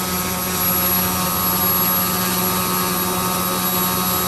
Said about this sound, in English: Now we're beginning to hear the power loss